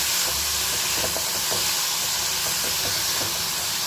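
Onions sauté in hot oil with peanuts for tomato chutney, giving a loud, dense hiss that runs the whole time, with faint scrapes of stirring just beneath it.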